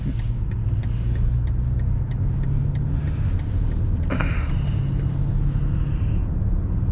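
Car engine idling while warming up in winter, a steady low rumble close by with a brief brighter rise midway, no talk.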